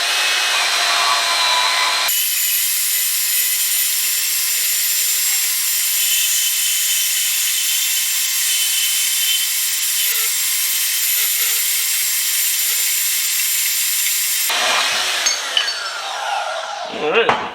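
A DeWalt DWM120 portable band saw cuts through 2-inch square steel tubing with 3/16-inch walls, a loud, steady, high-pitched grinding whine that holds for about twelve seconds, then stops.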